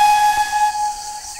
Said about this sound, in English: I can then hit it again, and we'll have the steam train.